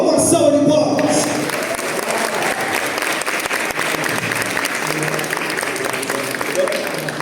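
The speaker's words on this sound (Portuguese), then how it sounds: "Uma salva de palmas." An audience greets a speaker at a motivational talk with loud, dense, sustained applause. A brighter burst of cheering opens it, then steady clapping carries on.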